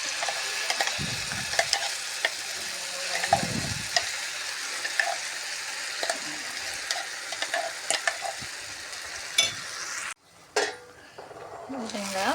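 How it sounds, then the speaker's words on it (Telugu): Moong dal paste sizzling in a pan while a spoon stirs it steadily, with light scraping clinks against the pan, and a brief burst of louder sizzle near the end. "ఇప్పుడు మనం తీసి పెట్టుకున్న పేస్ట్ మొత్తం వేసుకోవాలి"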